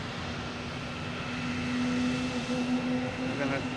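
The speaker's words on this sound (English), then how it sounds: "And when they fire the engines up here, it gets a little loud." JetBlue Airbus A321 jet engines spooling up for takeoff at Boston Logan Airport, a steady rising drone with a sustained whine building in loudness at a distance.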